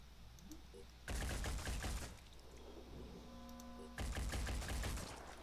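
Two rapid bursts of gunshots in Phoenix Point, each about a second long, loud and sharp, separated by quieter game ambience.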